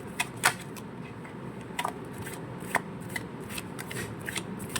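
Tarot cards being shuffled and drawn for a Virgo reading: crisp papery riffles and flicks, with a sharp burst near the start and scattered lighter snaps and slides that follow, close and alone with no talking.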